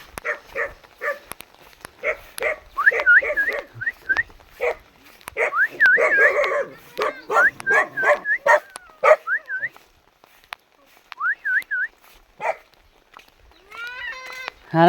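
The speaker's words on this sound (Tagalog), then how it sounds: "Yan yung aso na yan, kapatid yan ng aso dun sa bahay." A dog lets out a series of short barks and high, wavering whimpers and whines, close up, in bursts with brief pauses between.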